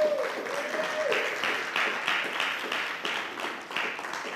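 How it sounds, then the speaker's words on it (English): A church congregation applauds in a large hall, a steady wash of many hands clapping that stays even throughout, with a brief tonal sound at the start. "Yeah, you can clap."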